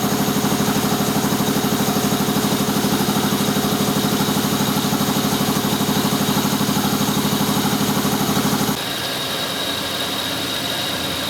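Compressor running at a steady, loud, droning hum with a fast, even pulse for most of the stretch, then abruptly dropping to a quieter hiss near the end, with no voices.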